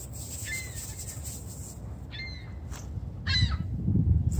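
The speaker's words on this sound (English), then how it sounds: "Oh, we got some geese down here." Geese honk intermittently at a moderate distance in a park, a few short calls over steady background noise and rustling.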